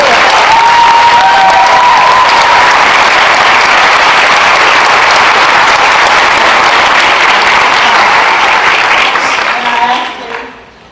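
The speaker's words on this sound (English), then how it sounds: "so if we can give a big round of applause" A large audience applauds loudly and steadily at a Halloween film panel, with a few cheers and whoops mixed in, before the clapping thins out and fades near the end.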